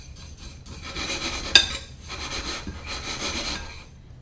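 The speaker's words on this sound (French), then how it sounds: "De l'ail. Puis je vais également mettre du poivre. Je mélange le tout." Garlic and pepper seasoning is stirred together in a bowl, producing repeated rubbing, scraping strokes in bursts with a sharp clink of utensil against the bowl midway, close and fairly quiet with no speech.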